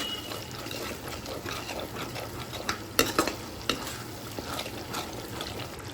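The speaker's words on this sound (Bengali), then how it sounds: "সমস্ত উপকরণ দিয়ে আবার ভালোভাবে নাড়িয়ে নেব।" Spices, Kashmiri chilli, salt and sugar are stirred in a hot frying pan for jackfruit kofta curry, a steady sizzle with repeated scraping strokes and a few sharper clinks of the spoon against the pan.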